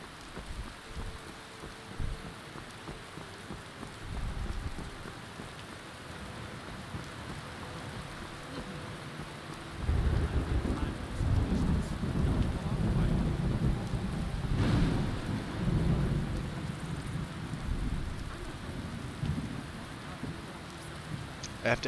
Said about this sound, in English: we got some rains here